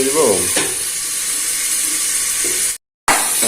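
Onion, tomato and whole spices fry in a hot pan, a loud close sizzle with stirring scrapes, briefly cut to silence near the end before resuming.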